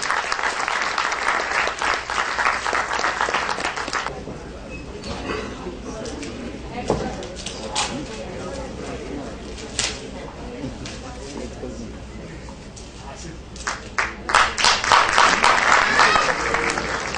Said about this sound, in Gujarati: આપણે ત્યાં બેઠા બેઠા તાળીઓથી જોડાઈશું